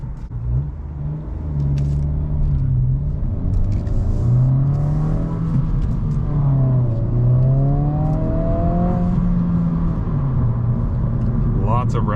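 A 2023 Honda Civic Si engine in sport mode, loud and close, a steady rumble rising and falling through several revs, with someone talking over it.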